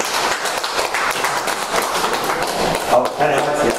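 Audience applause in a room for a piano exam candidate, a dense, steady patter of claps lasting a few seconds at moderate loudness.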